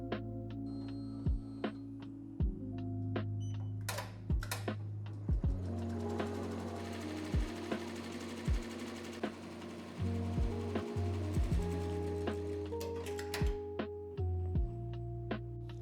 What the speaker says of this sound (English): From here, the machine will take over and begin stitching your design.